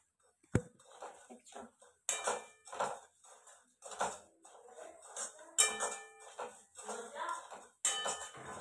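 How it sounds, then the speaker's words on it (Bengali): Semolina frying in a pan at home: a spoon scrapes and clinks against the metal in quick irregular strokes with sharp clatters, close by, while a person talks intermittently. "সুজিটা একটু লাল লাল করে ভাজতে হবে।"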